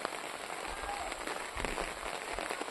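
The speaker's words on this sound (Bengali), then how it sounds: "একটু একটু করে বৃষ্টি সারাদিন একটু করে মানে পড়েই যাচ্ছে এরকম" Light, steady rain falls all day, heard as a soft, even patter that is faint and continuous without letting up.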